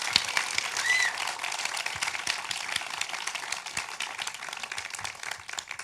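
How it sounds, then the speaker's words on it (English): An audience at a forum claps for a guest, a thin and fairly distant patter of hands that holds steady and tapers slightly toward the end, with a faint high chirp early on. "can you give one more round of applause to our guest for today?"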